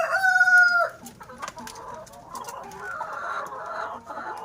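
Layer hens clucking in a poultry house during egg collection, a loud rooster-like crow at the start followed by scattered clucks and murmurs at close range, fairly quiet overall.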